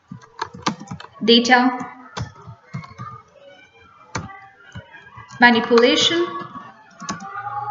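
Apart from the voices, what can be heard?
typing on a computer keyboard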